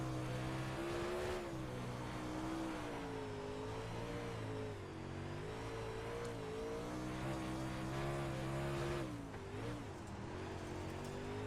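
Dirt late model race car engine in the iRacing game at a dirt oval, a loud, steady droning roar with rising and falling pitch as the throttle changes, close and continuous.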